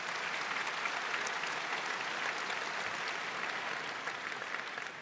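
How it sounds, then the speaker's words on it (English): A keynote audience at the Cisco Live 2025 conference in Amsterdam applauds in a big hall, sustained even clapping from a large crowd that is fairly quiet overall and tapers slightly at the end. "Big applause."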